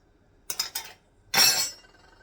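A glass jar of home-canned blueberry barbecue sauce is opened, giving a few quick faint clinks and taps followed by a short louder pop and hiss of the lid coming free, in a quiet kitchen.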